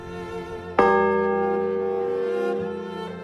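A single church bell is struck once with a sudden clang, then rings out in a long, bright, shimmering hum that decays slowly, heard clearly and alone.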